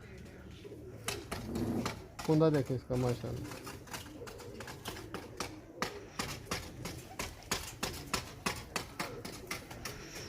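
A prized pigeon coos in a few low, throaty bursts close by, while someone talks admiringly over it and scattered clicks and taps continue in the background.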